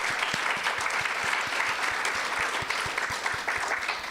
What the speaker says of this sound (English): a round of applause to all our wonderful speakers